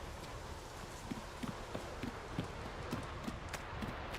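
In The Witcher 3, horse hooves clip-clop at a slow, even walk, faint and somewhat distant beneath a steady ambient background, with no talking.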